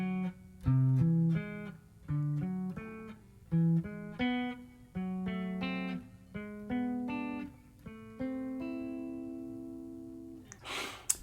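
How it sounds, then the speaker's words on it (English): Guitar plays the harmonized chords of the melodic minor scale one after another, about a dozen separate strummed chords in a steady sequence, the last left ringing before a brief noisy scrape at the end. "Harmonizing a scale is basically playing 3 notes in a row"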